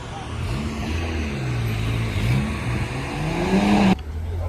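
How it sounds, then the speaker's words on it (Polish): A BMW Z3 roadster rolls into a night classic car meet, its engine note rising and falling steadily close by, ending with an abrupt cut. "No i wjeżdża 25 samochód, czyli drugi BMW Z3"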